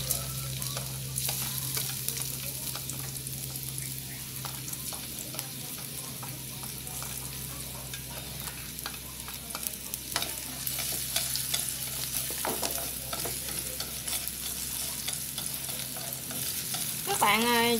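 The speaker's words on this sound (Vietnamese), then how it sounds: "Các bạn ơi, mình cho nấm xào trước ha." Boiled mushrooms stir-fried in hot oil in a pan, a steady close sizzle running throughout with scraping and clinks of a utensil stirring, no voices.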